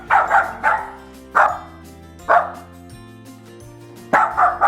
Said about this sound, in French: Elle jappe continuellement quand il arrive.